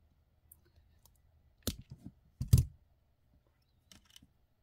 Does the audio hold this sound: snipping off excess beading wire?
yes